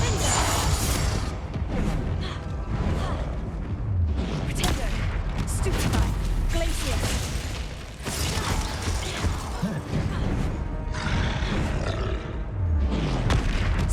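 Dense, chaotic combat noise from the Hogwarts Legacy video game on PS5, with Confringo fire-spell blasts booming amid constant rumbling, crunching impacts and grunting creature roars that stay loud throughout.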